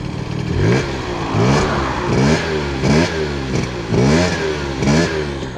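A Yasuni Z scooter engine revs up and down in repeated surges, about five rising pulls with a buzzy mid-range tone, close and loud with no talking.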